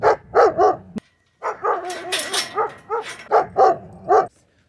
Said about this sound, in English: So they're vicious dogs, which you've seen in the previous video.